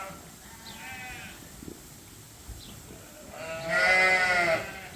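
Dorset sheep on a farm bleat: a short call first, then a louder, longer wavering bleat near the end over quiet outdoor ambience, with no talking.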